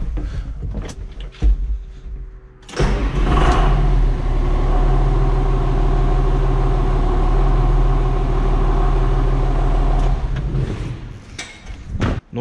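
A John Deere 6610 tractor engine cranks briefly, then catches and settles into a loud, steady diesel run, with a few clunks at the start and end.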